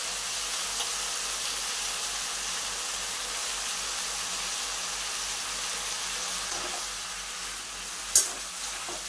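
Leafy greens sizzling in a frying pan after ginger has cooked, cooking for a sesame paste curry; a steady broadband hiss and crackle throughout, with one brief sharp clink near the end.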